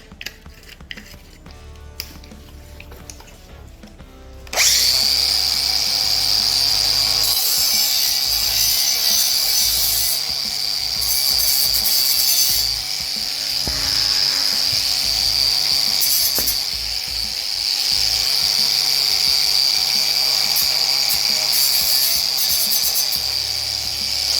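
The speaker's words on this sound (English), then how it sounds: "I'm gonna hit them with a tiger paw, which is one of these sanding discs" An abrasive tiger paw sanding disc grinds steadily against a Harley-Davidson Sportster metal frame, a loud continuous rasping whine that starts abruptly after a few seconds of quieter clatter and runs without pause.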